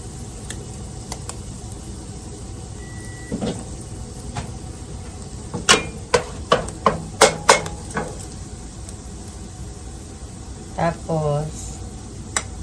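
Garlic frying in a pan over lowered heat, a soft steady sizzle broken by clusters of sharp utensil scrapes and clinks, with a voice speaking at times.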